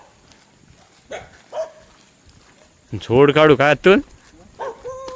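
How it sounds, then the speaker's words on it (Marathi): Dogs bark at night by a river in the first rain: a few scattered yips, then a loud cluster of rapid close barks, with someone speaking briefly. "कुत्री भुकतायत."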